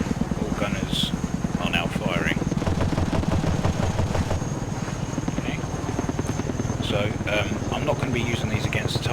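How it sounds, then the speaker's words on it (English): A CH-47 Chinook helicopter in DCS World with door and tail gunners firing, rapid machine-gun bursts crackling over the steady heavy rotor thump, with someone talking at times. "Now if we pull the triggers,"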